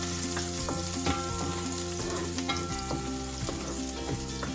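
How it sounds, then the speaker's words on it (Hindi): Chopped garlic and green chili sauté in a hot pan, a steady oily sizzle broken by scraping and clinking as a utensil stirs, close and clear with no talking. "सॉटे करेंगे थोड़ी देर।"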